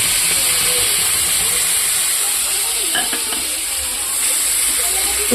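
Onion paste hits hot oil with whole spices for a prawn malai curry, giving a loud, steady frying hiss and sizzle that runs unbroken throughout, with a few faint stirring scrapes near the end and no talking.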